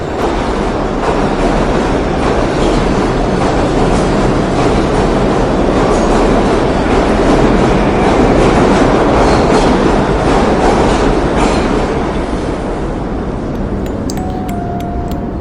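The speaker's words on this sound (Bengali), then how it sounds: "দানবের মতো হর্ন দিতে দিতে এগিয়ে আসতে থাকা লাস্ট মেট্রোর দিকে" A metro train roars steadily and loudly throughout, with rumbling wheels and rhythmic clattering over the rails as it nears, easing off slightly at the end, with no voices.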